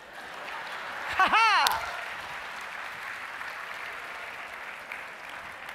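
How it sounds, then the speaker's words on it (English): An audience at an opening ceremony applauds in a steady, moderately distant wash of clapping, with a brief vocal laugh near the start. "Clap me."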